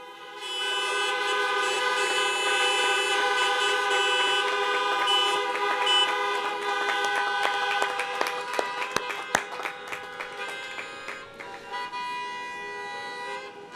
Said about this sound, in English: How about a honk?